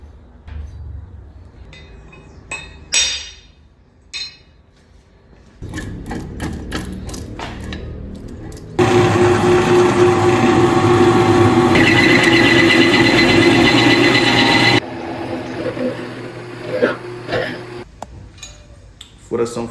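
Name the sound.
drilling holes in metal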